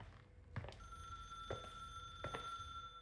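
A telephone rings in a horror video game, a steady bell tone with a few faint thumps and footsteps, somewhat distant and quiet.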